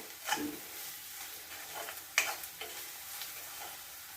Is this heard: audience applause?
no